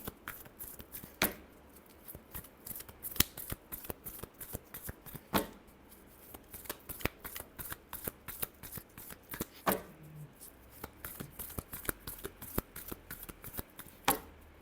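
Tarot cards shuffled by hand in a steady series of crisp riffling slaps and flutters, with sharp bridge snaps recurring every few seconds, close and fairly quiet, no talking.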